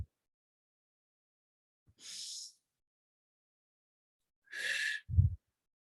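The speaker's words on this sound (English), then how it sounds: "Breathing in through the nose, out through the mouth" Slow, calm breathing as part of a relaxation exercise: a soft breath drawn in through the nose, then after a pause a fuller breath and a sighing exhale out through the mouth, with near silence in between.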